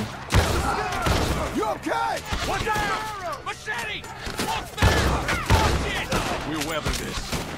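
Gunfire in Red Dead Redemption 2, a rapid run of sharp shots cracking through the scene over several seconds, mixed with in-game shouting and someone talking over it.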